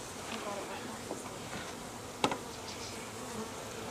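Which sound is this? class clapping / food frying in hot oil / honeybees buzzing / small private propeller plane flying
honeybees buzzing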